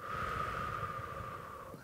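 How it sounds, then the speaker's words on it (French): A slow, steady exhale through the mouth during a guided morning meditation, a soft airy breath lasting under two seconds, close and quiet with no talk. "Retenez votre souffle et expirez lentement par la bouche"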